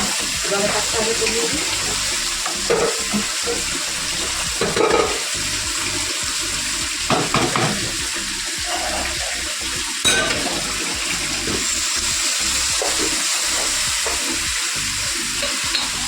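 Strong water from a kitchen tap gushing and splashing loudly and continuously at close range, with a few clattering knocks now and then and voices talking faintly underneath.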